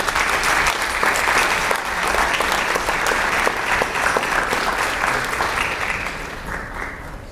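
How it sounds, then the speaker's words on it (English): Sustained applause from the audience at a county school board meeting, honoring future teachers; steady, dense clapping that fills the room throughout and tapers slightly at the end. "Let's give them a round of applause."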